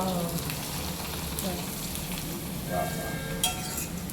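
Frying in a pan in a home kitchen, a steady soft sizzle and crackle held at an even level throughout, with a few light clinks and brief spatters.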